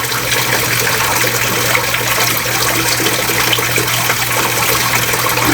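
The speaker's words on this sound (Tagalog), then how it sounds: "Yan, lalagyan ko na ng tubig para reserba." Tap water gushing steadily into a reserve container at home, a constant close rushing pour that holds unbroken throughout with no speech over it.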